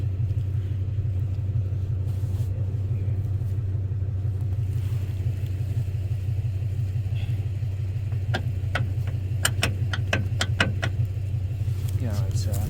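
A pickup truck on an off-grid homestead hauling hay, its engine rumbling low and steady up close while reversing, with a few sharp clicks and clatters near the end.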